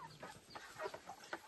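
Chickens on a poultry farm clucking softly in short, irregular bursts, faint and fairly close, with no voices over them.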